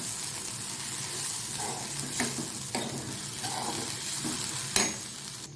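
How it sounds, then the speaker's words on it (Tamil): Green gram sundal with grated coconut and salt being stirred in a pan, soft scrapes and a few sharper spoon knocks over a faint low sizzle, close and quiet with no talking. "இப்போது தேங்காய் தூளும் உப்பும் சேர்த்து கிண்டி விடலாம்"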